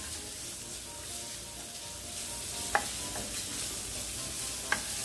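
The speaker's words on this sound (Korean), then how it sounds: "자, 지금 센 불로 볶고 있는 거고요." Thin-sliced pork belly stir-frying over high heat, a steady close sizzle with a couple of sharp utensil clinks against the pan.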